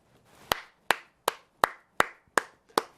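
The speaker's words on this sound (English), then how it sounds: "Why am I clapping?" Seven sharp hand claps at a steady, slightly quick rhythm, each a crisp close slap with a short decay, alone in a quiet room.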